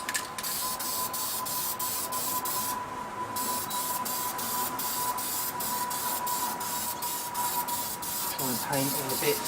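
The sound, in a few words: spray painting aluminium-coloured engine parts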